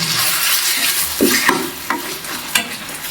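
Ginger garlic paste stirred and fried in a pan for a chicken pepper fry, a loud continuous sizzle with several close scraping stirs of a spoon against the pan.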